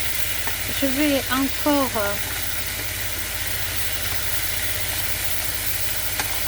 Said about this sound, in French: retourner les petits steaks d'aubergine.